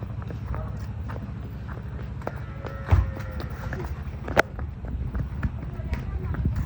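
A healthy Jersey-type dairy cow is walked for buyers at a cattle sale, its hooves clopping in an uneven walking rhythm on hard ground with a couple of sharper knocks, while people talk over it.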